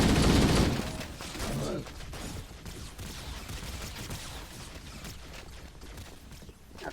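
Enemy gunfire in Halo: Combat Evolved, a loud rattling burst up front that gives way to steadier, lower-level shots and game ambience throughout.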